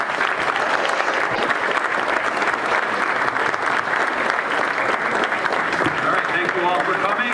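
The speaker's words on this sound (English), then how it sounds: "Let's give one final round of applause for our new Barry P. Gossett Director of Athletics, Jim Smith" Dense, steady applause from a large audience at a University of Maryland Terrapins athletics event welcoming a new director of athletics, filling the room evenly for the whole stretch without a break.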